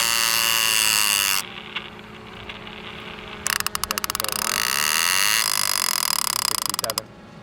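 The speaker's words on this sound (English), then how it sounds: "new drone, the Swell Pro" A Swell Pro fishing drone hovers near shark fishing on the Florida coast, giving a steady buzzing hum with a high tonal whine under people talking.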